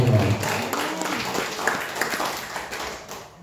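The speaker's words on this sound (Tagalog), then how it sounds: "Pwede palakpakan natin po ang ating Panginoon." A church congregation claps together in a burst of applause that is loudest at the start and gradually thins and fades over a few seconds, with no speech over it.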